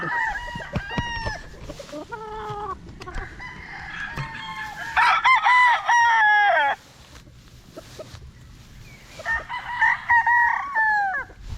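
A kelso stag rooster crows repeatedly and loudly nearby, with other fowl clucking between the calls and a few faint voices in the background.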